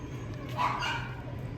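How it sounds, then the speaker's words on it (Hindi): A newly arrived German Shepherd at a hostel barks and yips nearby, short sharp calls over a steady noisy background. "और अकेला बिल्कुल नहीं रहता है, भौंकता ही रहता है, भौंकता ही रहता है।"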